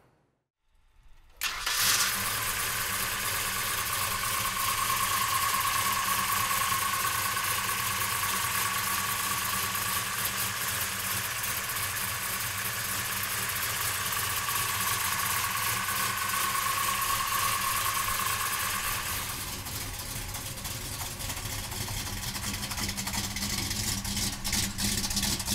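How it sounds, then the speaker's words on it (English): A 1970 Dodge Charger R/T with a stroker engine fires up after a brief silence and settles into a loud, steady idle that runs near and constant, easing slightly toward the end, with no talking. "So come on up and we'll fire it up now."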